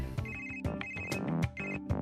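Mobile phone ringtone playing a repeating melodic tune in loud, rhythmic bursts, with bright tones over a beat, alone and close.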